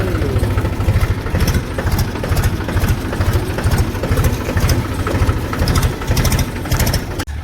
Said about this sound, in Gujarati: આપણે આ ટ્રેક્ટરને ઉપાડી લીધું છે